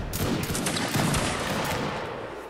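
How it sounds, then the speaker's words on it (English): A musket volley in a multiplayer line-battle video game, a dense crackle of many shots fired nearly together and then trailing off with echo, loud and close. "Present and fire at will."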